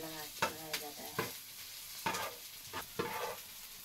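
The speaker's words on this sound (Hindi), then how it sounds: "ये दोस्तों यहाँ पर सरसों का तड़का और प्याज और लहसुन का तड़का लगाया जा रहा है।" Mustard seeds, onion and garlic temper in hot oil for a village-style pumpkin curry, with a faint sizzle broken by several distinct scraping stirs of a spoon in the pan, with no talking.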